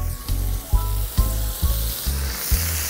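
Fish pieces, including leopard shark, sizzle steadily in olive oil on a Camp Chef cast iron griddle, with a continuous broadband crackle and several soft low thumps recurring about every half second.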